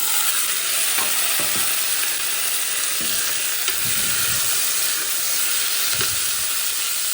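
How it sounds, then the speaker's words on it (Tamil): Vaddu brinjal sautéing with curry leaves in a pan gives a steady loud sizzle, with intermittent scraping stirs and clinks of the spoon against the pan throughout. "இந்த டைமில் வட்டு கத்திரிக்காயை சேர்த்து கொள்ளுவோம் சேர்த்து இதோட சேர்த்து வதக்குவோம்"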